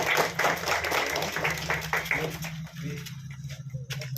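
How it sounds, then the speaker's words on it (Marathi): Applause at a Constitution Day anniversary gathering: a crowd's steady clapping fills the first half, then thins to scattered claps under a low hum and a voice speaking. "सर्वांनी टाळ्या वाजवा."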